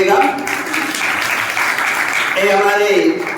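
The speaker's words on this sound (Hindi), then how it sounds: "बलवंत जी के लिए जोरदार तालियां बजाइएगा।" A crowd at a religious keshlochan gathering in Gunnour, Sonipat applauds loudly and continuously for Balwant ji, while a voice carries over the start and end of the clapping.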